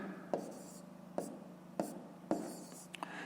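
Pen or pencil writing numbers by hand during a fifth-grade math exercise, with four sharp taps of the pen on paper standing out over a soft, steady scratching. Close and quiet, with no talk over it.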